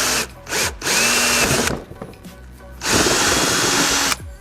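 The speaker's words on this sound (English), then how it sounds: "the actual 3/4 inch drill bit." A 3/4 inch drill bit bores into an aftermarket bumper quick-release mount on a Mitsubishi Evo X, with a power drill whirring in several loud bursts and short pauses between them, no one talking.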